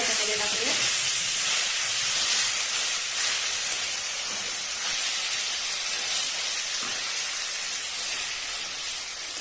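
Grated pumpkin sautéing in hot ghee makes a steady, dense, close-up hiss that holds evenly throughout, with no talk over it.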